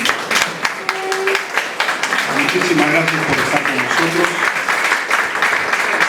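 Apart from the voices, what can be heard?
audience applause at ceremony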